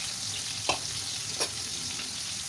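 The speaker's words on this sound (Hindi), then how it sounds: "करेले को ऐसे करके तला लेंगे जिससे कि जल्दी फ्राई हो जाए।" Bitter gourd fries in hot oil with a continuous close sizzle, and two brief scraping stirs of the pan cut through, with no talking.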